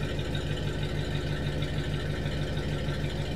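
A 1974 Mercury Marquis Brougham idles through factory-style dual exhaust, a faint, steady low engine burble with an even pulsing hum and no talking.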